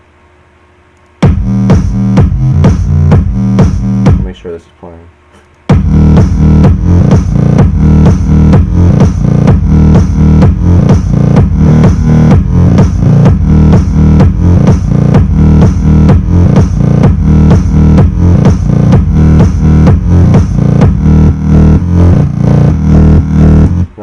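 Synthesized electro bass plays as a loud, distorted, pulsing pattern with rapid rhythmic chops, pausing briefly after a short intro before continuing steadily; a voice speaks briefly at the start.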